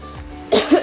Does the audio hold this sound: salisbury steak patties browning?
no